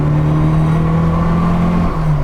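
Engine of a rare Austin Mini Cooper S small sports car, droning steadily and loud close up while driving, with a sustained low hum and no talk.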